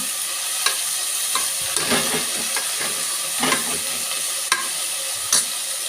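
Tomatoes frying in a pan after onions for rasam, a constant close sizzle and hiss with irregular spatula stirs and light scraping taps, no voices.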